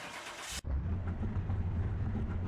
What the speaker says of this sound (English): let's get this one started and hear this Hemi engine purr